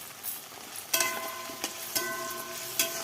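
Chopped tomato and whole garlic cloves frying with onion in a pan, a steady soft sizzle broken by several sharp clicks and scrapes of stirring, close and moderately quiet.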